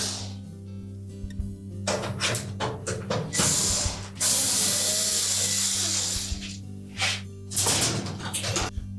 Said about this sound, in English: we'll remove all 4 screws that secure that control